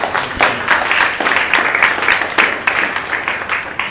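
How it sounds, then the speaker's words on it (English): Audience applause at a family reunion after a hypnosis stage show, dense sustained clapping from a crowd, loud and close, with occasional sharper claps standing out. "Let's give these guys a big round of applause."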